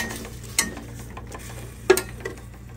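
A spoon scrapes and knocks against a cooking pot of camel meat. Two distinct metallic clinks stand out over a low, steady background hiss, with a faint softer tap after the second.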